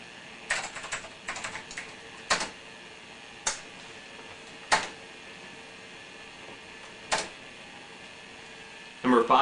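Old computer keyboard at a DOS command prompt, struck in a quick cluster of clicks and then in single, well-spaced keystrokes, ending in a louder flurry; the clicking is close and sharp against a quiet room.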